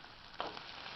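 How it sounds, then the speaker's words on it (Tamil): Finely chopped onions sauté in a pan with popped mustard seeds for gosthu, giving a soft, steady sizzle with one brief crackling flare partway through. "இப்போ வெங்காயம் நல்லா வதங்கிவிட்டது"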